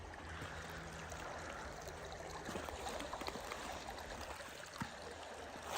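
Creek water flows steadily as a broad, continuous trickling wash, moderately near, with a few faint knocks and scuffs over it and no voices.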